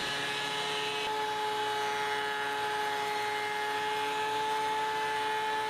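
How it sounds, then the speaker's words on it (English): A thickness planer running steadily on walnut, oak and maple boards, a continuous loud whine with sustained tones over a broad roar, no pauses and no talking. "The first step is going to be running these boards through the planer."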